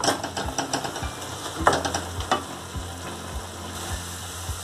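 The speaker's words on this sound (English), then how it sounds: "Let cook and reduce the butter. Saute in between" Mustard greens saute in reducing butter in a pan, a steady sizzle broken by regular clicks and scrapes of stirring, close and moderately loud with no talking.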